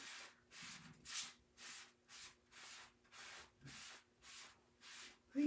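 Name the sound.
wiping chalk paste off a stencil with a sponge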